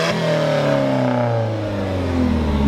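An Alfa Romeo 4C sports car engine runs close by, a loud steady drone whose pitch sweeps and shifts as it revs, continuous throughout with no talking.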